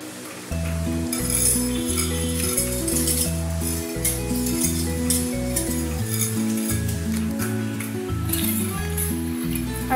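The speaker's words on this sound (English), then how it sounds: "Then we're gonna stir it." Crab and corn soup being stirred in a pot, a continuous scraping and clinking of the spoon against the pot over a steady hum of cooking, with no voices.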